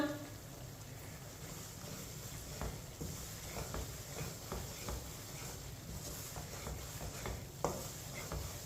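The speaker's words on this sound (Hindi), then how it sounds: "इसी तरह चम्मच चलाते हुए 2 मिनट के लिए पकाना है, सूजी को भूनना है।" A spoon scrapes and stirs semolina (suji) as it roasts in a pan over a medium flame for grainy halwa, with soft repeated scraping and light clinks close by under a quiet background hiss.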